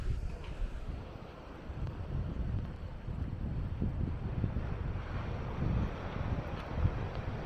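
Headwind buffets the microphone while moving along the seafront at Maspalomas on Gran Canaria, a constant low rumbling roar with gusty swells and faint surf beneath, no voices.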